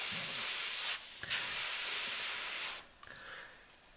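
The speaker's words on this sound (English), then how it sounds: "if you spray and move at the same time, so if you want kind of little fur strokes, if you spray and move like this" An airbrush hisses in a steady, close spray through a stencil for a few seconds, a brief pause interrupting it, before it cuts off and leaves only faint small sounds.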